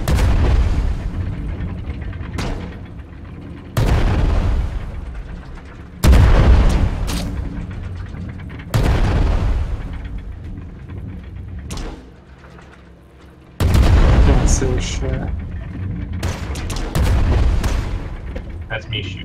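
Cannon fire in the airship game Worlds Adrift, with heavy booming shots at irregular intervals of a few seconds, each followed by a rumbling decay, loud and close, with a softer lull partway through.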